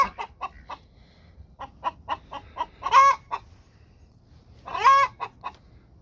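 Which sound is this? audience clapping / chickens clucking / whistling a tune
chickens clucking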